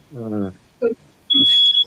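A smoke alarm sounds from upstairs, one steady high-pitched electronic tone lasting about half a second, heard between bursts of nearby voices.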